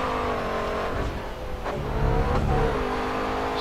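A race car engine in GRID Autosport drones close and steady, its pitch swelling and dipping as the driver eases off and accelerates out of a hairpin, with a brief rising rev near the middle.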